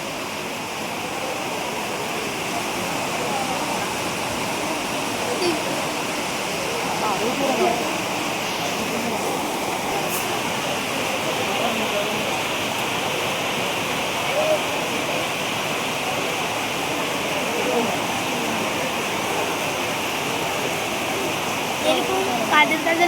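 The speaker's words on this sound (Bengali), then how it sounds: "ট্রেনে উঠে দেখো সুন্দর বৃষ্টি হচ্ছে" Steady rain beats down on and around a train, heard from inside the carriage as a dense, continuous wash of hiss and patter with no breaks, loud and close throughout.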